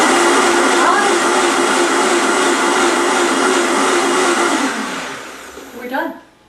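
A Vitamix blender whirs loudly while blending a tropical green smoothie, a steady high roar that winds down near the end with a brief rising pulse before stopping.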